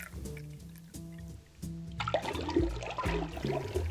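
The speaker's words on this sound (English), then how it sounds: "your next step now is to add your favorite rum of choice" Two ounces of rum poured into a glass, a close liquid splash and trickle lasting a couple of seconds after a short background music passage, with no talking.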